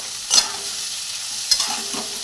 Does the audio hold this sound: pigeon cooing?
no